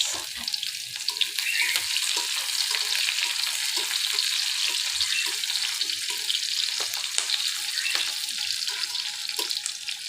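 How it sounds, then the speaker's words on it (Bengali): Crushed garlic and a little onion frying in a pan, a continuous bright sizzle with occasional stirring clicks and scrapes, steady and close, without talk. "এটা আমি খুব ভালোভাবে একটু ভেজে নেব দেখেন আমার পেঁয়াজ আর রসুনটা ভাজা হয়ে গেছে"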